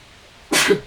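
A single sharp sneeze bursts out after half a second of near silence, loud and close, then fades quickly.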